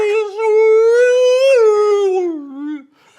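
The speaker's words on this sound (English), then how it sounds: "What is that? It's like a whale sound." A single loud, close, whale-like moaning call holds a long rising-and-falling tone for nearly three seconds before trailing off, with no talking over it.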